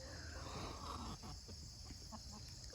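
A backyard chicken clucks softly near a coop, with a low, steady hum of farm ambience beneath the scattered short calls.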